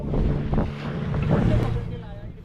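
A boat runs across open water toward the Devbag lighthouse, with a rushing wash of wind and water throughout and people talking over it.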